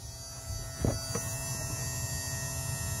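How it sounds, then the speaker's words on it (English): A newly installed bilge pump hums steadily and quietly throughout, with a couple of faint knocks near the start. "Let me turn it on. Oh yeah. Yeah, it's humming away."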